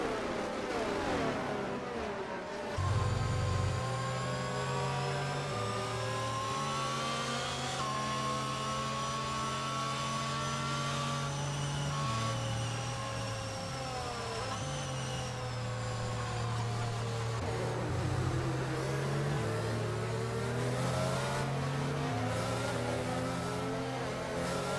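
F1 2022 racing cars running in a multiplayer race under the safety car, sustained high-pitched engine whine with shifting revs rising and falling across the gears, loud and continuous.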